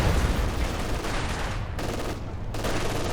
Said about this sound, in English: Here's the machine gun though.